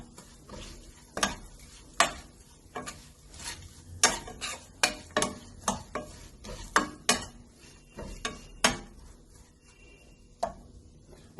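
A spoon stirs ground black pepper into chicken in a pan for fenugreek chicken with coconut milk, making a quiet, irregular run of close clinks and scrapes against the pan with no talking.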